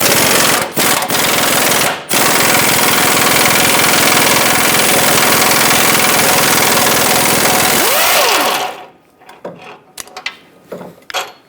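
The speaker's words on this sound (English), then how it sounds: "I'm going to put my air impact on this side so I can pull the bolt straight out" Air impact wrench loosening an idler arm bolt on a 2007-2014 Chevrolet Silverado 2500 HD, a loud, rapid continuous hammering rattle with brief breaks, ending abruptly and followed by light metallic clinks and handling noises.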